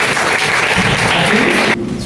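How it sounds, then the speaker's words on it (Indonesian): Applause from a class of students, dense close clapping that cuts off abruptly near the end. "tepuk tangan untuk"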